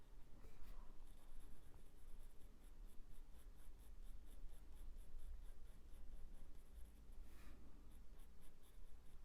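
Colour pencils scratch steadily across paper while drawing a Cavalier King Charles spaniel, a soft continuous scribbling with rhythmic strokes, close and quiet, with no talking.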